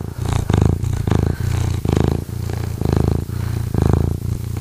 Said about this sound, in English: Do the Freedom Fiends make you purr?